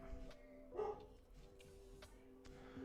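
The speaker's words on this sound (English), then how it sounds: "We got a barking dog in the back." A dog barks a few times in the distance, faint and intermittent over a quiet indoor room hum.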